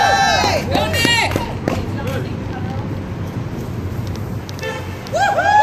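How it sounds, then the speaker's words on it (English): A passing driver honks a car horn at a clean-water rally by the roadside, with repeated toots at the start and again near the end over crowd voices and cheering. "Another honk by a person going by."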